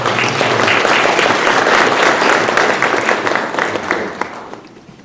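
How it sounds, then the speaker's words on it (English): Loud, dense applause from the audience at an alumni award and athletic hall of fame ceremony, holding steady for several seconds before tapering off into scattered claps. "Let's give them a round of applause for this."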